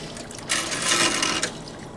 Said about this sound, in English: Now, I'm going to take this juice, so I don't burn my fingers. We'll pour it right in back in here.